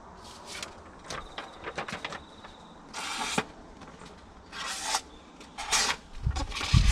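A kitchen knife is drawn across sandpaper in short, dry rasping strokes, several separate scrapes of varying length at close range, with faint background noise between them.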